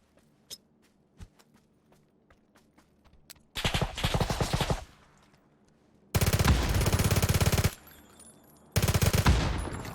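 PUBG console video game gunfire: scattered single shots early on, then three loud sustained automatic bursts, close and harsh, with no talking.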